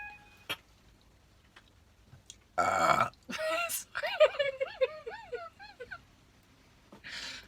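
A loud, drawn-out burp after someone finishes a coffee, with a sharp click before it and a separate short burst of noise near the end.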